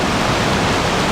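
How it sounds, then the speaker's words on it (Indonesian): Waterfall at Batulantang village: a loud, dense, unbroken rush of falling water filling the whole short span, close and steady with no pauses. "indahnya alaminya air terjun di Desa Batulantang"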